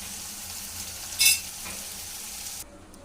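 Sambar bubbling on the stove in a pot, a steady soft simmering hiss with one brief brighter crackle partway through, faint and without voices.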